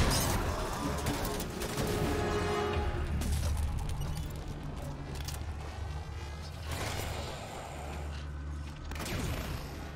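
Rapid gunfire from Halo 5: Guardians, dense and continuous across the whole stretch, layered over a busy, loud game soundscape with mechanical clatter and no clear speech.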